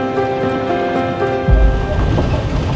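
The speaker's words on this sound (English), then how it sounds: "Here is that same river that I showed you on the way in, Vermilion Creek" Vermilion Creek flows past a family farm with a steady, close rushing wash of water, broadband and continuous, and a brief low thump partway through.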